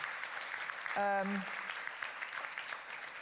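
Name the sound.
audience applause for speakers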